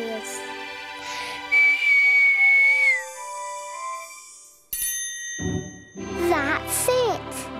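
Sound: whistling

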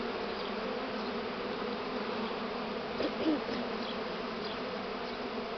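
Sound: swarm of honey bees entering a hive

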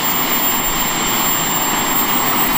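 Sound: small jet-powered hovercraft engine throttling up

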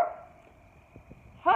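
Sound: dog barking

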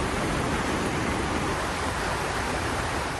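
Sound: heavy rain and strong wind on a bridge in Istanbul

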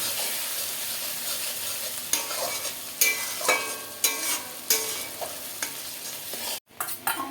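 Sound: vegetables with red chilli powder being stirred in a pan

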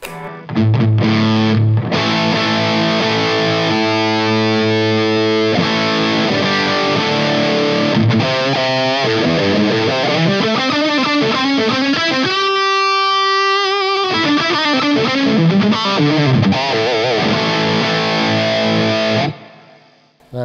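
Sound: electric guitar through amp with high gain

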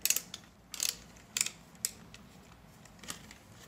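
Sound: ratcheting headset of Trimble XR10 HoloLens 2 being adjusted

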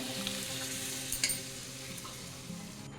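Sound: pea boiling water poured into frying ghugni pan

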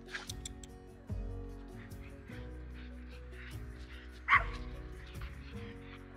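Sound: dog barking

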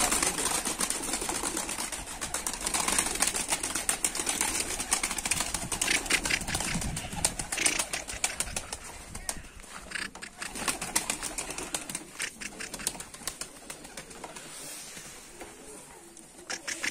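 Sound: pigeons in a coop

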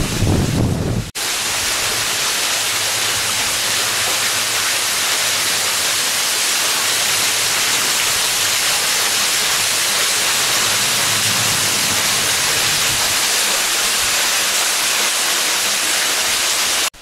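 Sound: waterfall

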